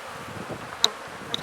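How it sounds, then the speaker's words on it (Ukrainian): Honeybees hum in a soft, steady buzz close by at an opened hive, with two brief sharp clicks standing out against the drone. "Тут бджола виходить."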